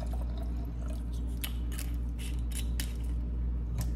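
Sauvignon Blanc white wine pours into a glass up close, a steady liquid splash with small clicks and trickles over a low background hum, with no talking.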